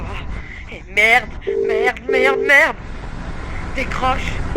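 A telephone rings in the FNAF horror game, a few loud, bright electronic trills in short bursts, with people talking and reacting over and between the rings.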